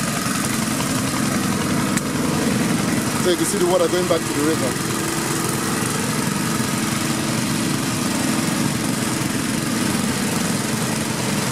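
A water pump engine at a fish farm in Ilorin, Nigeria, drones loud and steady nearby, a constant mechanical hum and rattle running throughout while a person talks over it.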